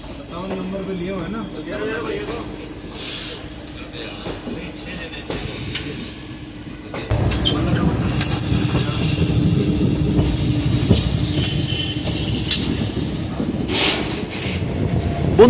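The Ranikhet Express, train 15014, pulling out of Kathgodam toward Delhi: a steady rumble and rattle that swells sharply about halfway through and then holds, with someone speaking over it.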